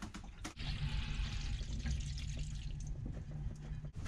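Water runs steadily from a bathroom tap aboard a sailboat at sea, a continuous close splashing flow with a faint low hum beneath and a couple of brief knocks.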